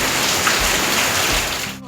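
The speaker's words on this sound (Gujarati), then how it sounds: "વરસાદ આવી ગયો છે અને બહુ બધો આવ્યો" Heavy monsoon rain pours down in a Gujarat village near Ahmedabad, a loud, dense and steady roar of drops that carries on without a break.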